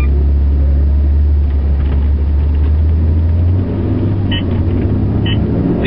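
A car drives along the road with a steady, loud low rumble of engine and tyre noise close by, pitch easing midway as it moves on; faint brief beeps sound near the end.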